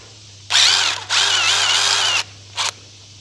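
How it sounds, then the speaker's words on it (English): Power drill boring a quarter-inch hole during an outdoor ham radio antenna build, two loud sustained whining bursts with a brief stop between, then a short final blip, close up with no talking. "go ahead and drill a 1/4 inch hole for this"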